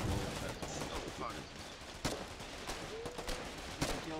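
Rifle and machine-gun fire in the war game Foxhole pops in sharp, scattered bursts, fairly distant and faint, alongside some talk.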